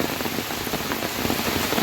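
Heavy rain from Cyclone Remal pours onto a fishing boat, a dense, steady roar of drops with no break and no voices.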